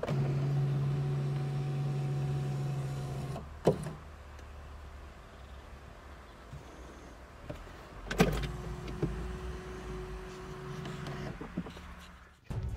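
Seat belt feeder arm in a 1992 Mercedes-Benz W124 230 CE coupe retracting with a steady electric motor whir inside the cabin, one run of a few seconds, then a clunk and a second, quieter motor run, with no talking.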